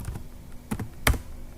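Keys clack on a computer keyboard in a few short bursts of quick taps with brief pauses between them, close and fairly quiet, with no talk.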